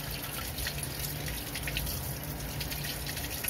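Tap water runs steadily into a sink during dishwashing, a soft, continuous splashing trickle with faint drips, close by and unbroken throughout.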